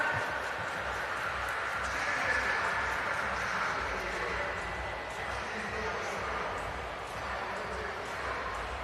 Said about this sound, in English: let me hear you clap